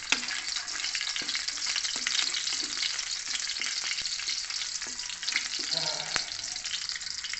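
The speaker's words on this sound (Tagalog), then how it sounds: "start na tayong maggisa. Ito na yung mantika natin. Bawang." Garlic sautés in hot cooking oil at the start of a sitaw and kalabasa ginisa, a dense, constant crackling sizzle with scattered sharp pops and light stirring clicks, close and without talk.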